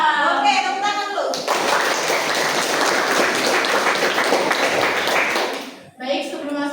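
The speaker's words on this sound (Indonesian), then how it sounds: "Oke, tepuk tangan dulu." A group claps in an Indonesian classroom math lesson, producing a loud, steady burst of many hands that lasts several seconds. Voices talk just before it starts and again right after it stops.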